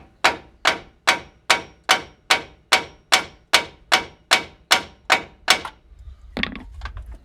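Hammer knocking on an OEM strut assembly of a VW Golf 7.5 during removal, thirteen sharp evenly spaced metallic blows in a steady rhythm, then a duller scrape and clunk, with no talk.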